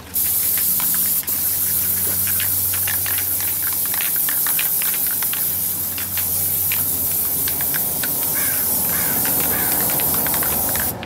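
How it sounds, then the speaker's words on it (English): Plasti Dip aerosol sprays onto metal wheel lug nut areas in long, loud, continuous hissing bursts with brief gaps and faint clicks, close up and with no talking. "I'm trying to just like spray like this"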